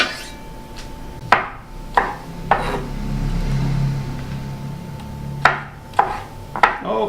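A knife cuts jackfruit on a wooden board, giving sharp, close chopping knocks in two irregular clusters separated by a soft scraping pause.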